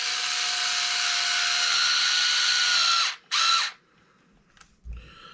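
Power driver running screws into a Traxxas 4-Tec body mount, a long loud whine that cuts off, a second short burst, then a faint clack and quiet.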